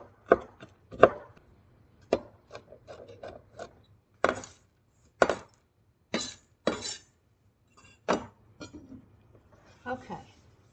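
Nuts being chopped finely with a knife on a board, a series of sharp irregular taps and scrapes with short pauses between strokes, close and clear.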